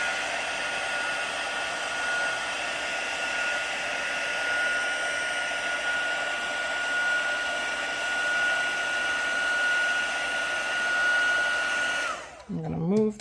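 A handheld heat tool blows steadily while melting embossing powder on a craft card, a constant whirring hiss with a thin tonal whine, running for about twelve seconds before switching off abruptly.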